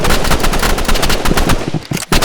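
Rapid automatic gunfire from a first-person shooter match in Marvel Rivals rattles loud and close in dense bursts, briefly cutting out near the end before resuming.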